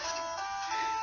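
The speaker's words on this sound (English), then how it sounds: "It's catchy music, and I like catchy music." A short stretch of bright, tonal electronic melody plays steadily, chiptune-style theme music from the game The Mysterious Murasame Castle, with no talking.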